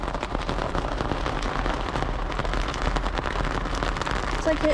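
Rain drums on the body and roof of a 1967 Camaro in a steady, dense patter from inside the car, close and loud throughout with no break.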